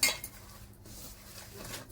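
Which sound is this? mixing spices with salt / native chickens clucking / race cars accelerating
mixing spices with salt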